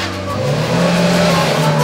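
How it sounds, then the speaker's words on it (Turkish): A taxi engine screams at high revs while stuck in the wrong gear during a driving lesson, a loud, sustained, strained drone that climbs slightly in pitch, with no speech over it. "Bak araba bağırır, bağırtırma arabayı."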